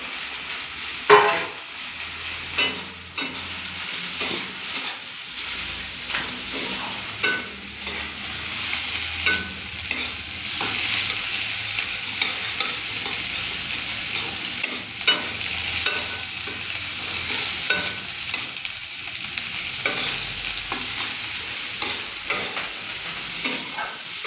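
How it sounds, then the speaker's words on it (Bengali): Boiled cauliflower fries in a pan with a continuous close sizzle and frequent stirring scrapes and clinks scattered throughout, and no voices. "আমার কপিটা সিদ্ধ করা আছে, এটাকে হালকা এর সাথে ভেজে নেব"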